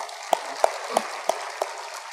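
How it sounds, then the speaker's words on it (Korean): Church congregation clapping in a Korean Full Gospel service: five crisp, evenly spaced claps in a steady rhythm over a quiet room hum. "영광의 박수를 하나님께 줘."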